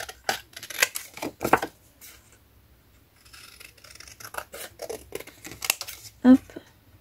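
Scissors snipping paper for a safari-themed scrapbook decoration, a series of quick crisp cuts in bursts, close up, with a voice talking over part of it.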